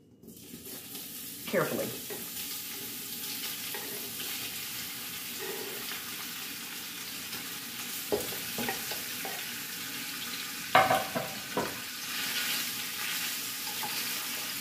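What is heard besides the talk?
sausages frying in a pot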